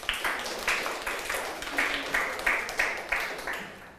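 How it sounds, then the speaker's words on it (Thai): Children in a sixth-grade classroom lesson clap for themselves, a quick, loosely synced run of claps repeating at a steady pace across the whole stretch, with no speech over it. "ปรบมือให้ตัวเองหน่อยค่ะ"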